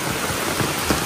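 Steady rain falls outdoors during a light shower, a continuous broadband patter on surfaces with a few slightly louder drops, close and even, with no talking.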